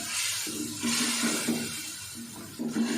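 A little water is poured over chicken and potatoes in a pot for pulao, a rushing, splashing pour with a low hum underneath, close and steady with slight swells.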